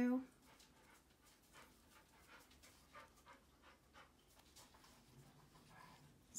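Dogs pant steadily close by indoors in a quiet room during a crochet session, a soft rhythmic breathy rasp repeating throughout, with faint soft whimpers and no clear talk over it.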